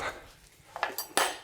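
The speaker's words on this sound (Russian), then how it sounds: "Теперь я аккуратно перекладываю мясо на тарелку." Clinking of cutlery against dishes as barbecued pork belly is placed onto a plate, a few sharp scrapes and taps, close and fairly loud, with no talking.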